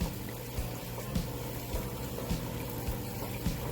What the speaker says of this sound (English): Just a little more water.